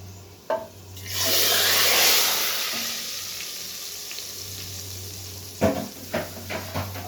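A loud burst of sizzling as hot oil tempering hits masoor dal, fading into a softer bubbling hiss, followed by a few clinks of a utensil.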